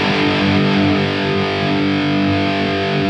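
An electric guitar runs through a TC Electronic 2290 P dynamic delay set to equal dry and delay levels, giving a dense, distorted sustained tone that rings steadily for several seconds with no talking.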